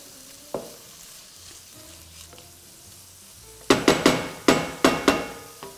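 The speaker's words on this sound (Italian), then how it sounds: "Questo è il momento di andarci ad aggiungere il prosciutto cotto. E si fa rosolare un pochino." Cooked ham (prosciutto cotto) browning in a pan: a faint sizzle at first, then a run of sharp, loud utensil knocks and scrapes against the pan as it is stirred, close up and with no talking.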